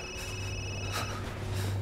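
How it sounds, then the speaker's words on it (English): A telephone rings with a clear, steady electronic tone inside the horror game Resident Evil Village, close and alone with no talk. "You're already starting with phone calls?"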